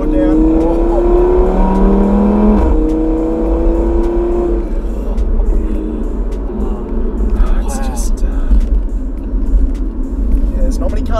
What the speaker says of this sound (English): The sound of the engine, the sound of the exhaust, the sound of the turbo.